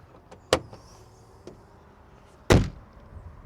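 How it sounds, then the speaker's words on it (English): The hood of a 2025 Ford Bronco Badlands is closed: a light knock, then a single heavier, damped thud, close by in a quiet setting. "let's go ahead and close this so you can get an idea what it looks like without the hood open"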